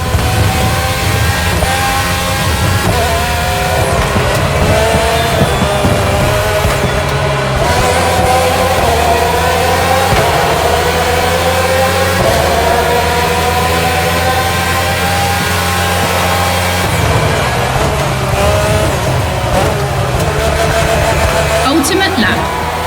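Red Bull Formula 1 cars from four generations, the RB13, RB14, RB18 and RB20 with Renault and Honda engines, race in The Crew Motorfest, a steady loud engine drone with shifting revs throughout, with speech mixed in.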